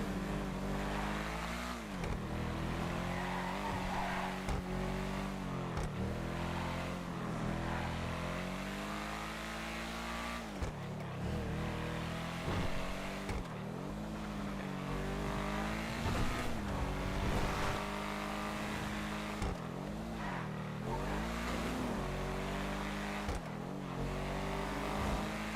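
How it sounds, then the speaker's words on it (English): A V6 car engine in the Redline RP driving game revs hard and continuously, its pitch repeatedly climbing and dropping through gear changes, loud and close throughout with no talking. "Listen to that V6."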